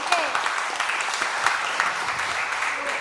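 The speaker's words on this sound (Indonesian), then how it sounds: "Tepuk tangan." Audience applause during a relaxed talk-show arts discussion, a steady wash of clapping lasting the full stretch at moderate loudness, with faint voices mixed in.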